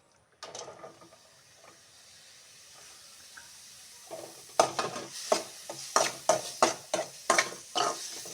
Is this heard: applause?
no